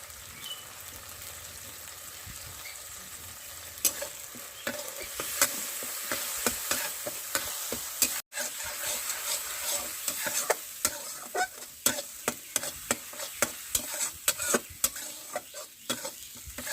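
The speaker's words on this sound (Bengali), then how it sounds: "আমি 3-4 মিনিট এরকমভাবে জাল করে নেব" Tomato with cumin, coriander and a little turmeric powder frying in a pan for a dharosh dish, a steady close sizzle broken by repeated scraping stirs that grow busier toward the end.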